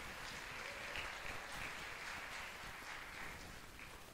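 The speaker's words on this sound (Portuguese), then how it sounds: "Um aplauso para o irmão que foi lá apagar a luz." Faint, distant applause from a congregation at a church prophetic conference, a soft continuous wash of clapping heard at low level.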